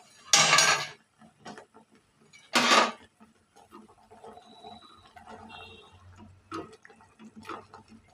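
Bread halwa being stirred in a pan with cardamom powder, a spoon scraping and clinking against the metal in a few loud bursts, then softer intermittent scraping and tapping, with no talk.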